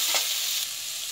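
Dried red chillies and onion hit hot oil with a loud, close burst of sizzling that settles into a steady hiss over about a second.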